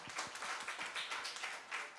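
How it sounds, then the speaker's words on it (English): Scattered applause for community TB workers at a conference session, with a small group clapping in loose, uneven bursts that sound fairly faint and distant. "So this applause is for everybody in the community who's out there and not represented here"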